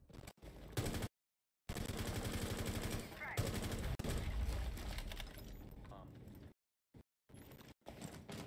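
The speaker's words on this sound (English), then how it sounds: "But we do see some possible gunfire." Bursts of automatic gunfire in a Rainbow Six Siege college esports match, Marietta College vs. Butler University, heard alongside game effects and broken by short silent gaps, with a commentator talking over the action.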